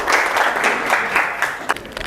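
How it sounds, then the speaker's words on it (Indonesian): A class applauding a student presenter during a lesson on bandwidth management: a short burst of group clapping, moderately loud and fading toward the end, no talking. "Kasih tepuk tangan buat Mas Riza."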